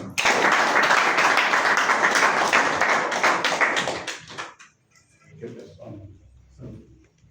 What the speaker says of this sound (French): je vous prie d'abord à cet effet d'applaudir chacun pour soi-même